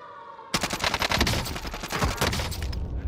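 Gunfire in a multiplayer shooter video game, with a sudden loud burst after a quiet half second, then dense rapid shots and impacts filling the rest, close and continuous with no talk.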